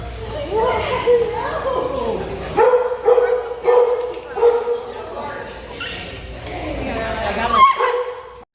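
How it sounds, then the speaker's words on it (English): Dogs at a dog park at a cruise boarding facility, yipping, barking and whimpering excitedly in rapid, overlapping bursts close by, with people talking over them throughout. "We're at the dog park, and they are having a blast."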